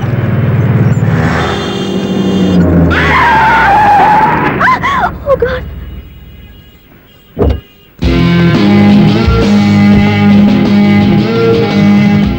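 A car brakes hard on a road, its tires screeching loudly in a long, wavering skid before a short pause, after which loud engine and traffic noise resumes.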